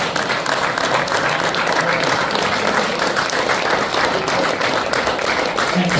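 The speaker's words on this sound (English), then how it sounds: "Give him a big round of applause." A theatre audience at a private evening with a former Liverpool footballer and European Cup winner claps and applauds loudly and steadily, a dense unbroken wash of hands throughout.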